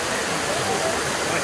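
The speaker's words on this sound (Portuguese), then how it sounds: "cachoeira aqui à noite" A waterfall at night roars as a constant, dense rush of falling water, close and loud with no break.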